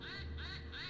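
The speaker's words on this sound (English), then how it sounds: "I heard ducks too, but that was definitely not me." A duck quacks in a quick run of nasal calls, faint and close-miked, with no talking over it.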